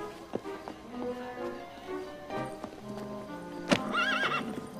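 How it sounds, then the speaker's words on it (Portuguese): Hooves of a horse in an animated Sinbad adventure clip-clop in a steady rhythm, and a loud, shrill whinny rises near the end; the sounds are close and clear, with no talk. "Ah, esse cavalo é meu!"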